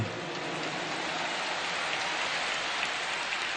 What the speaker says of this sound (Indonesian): Tepuk tangan buat semua yang hadir di sini.